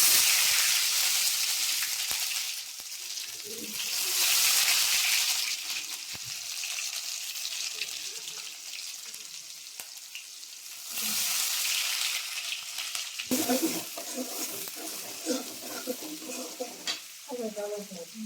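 Onions sizzle loudly in hot sesame oil for a country chicken curry, the frying swelling and easing as the pan is stirred; near the end a voice speaks over the crackle.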